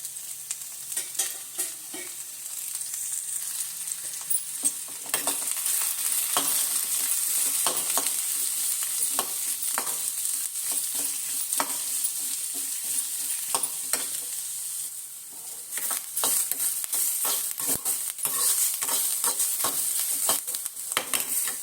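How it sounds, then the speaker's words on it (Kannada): Onions frying in oil in a pan over a village-style wood-fire stove, a steady loud sizzle with repeated stirring scrapes and clicks throughout, no voices. "ಈಗ ಇಲ್ಲಿ ನಾನು ಈರುಳ್ಳಿನ ಹುರ್ಕೊಂಡ್ಬಿಡೋಣ. ಸ್ವಲ್ಪ ಎಣ್ಣೆ ಹಾಕ್ತಾಯಿದ್ದೀನಿ"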